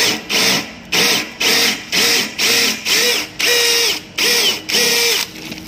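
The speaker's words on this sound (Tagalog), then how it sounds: "Pagbubutas kayo mga kabakal, simulan nyo sa maliit." A portable hand drill bores into a metal base plate in nine short, evenly spaced bursts, each a loud whirring whine with a brief pause between, close and without talk.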